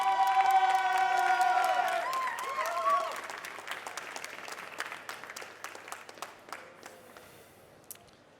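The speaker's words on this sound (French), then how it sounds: "Allez, on applaudit bien fort Marco de Souza Rosa, s'il vous plaît." An audience at a French barista championship final claps and cheers loudly for a competitor, the applause thinning into scattered individual claps and tailing off over several seconds, while a musical tone rings out at the start.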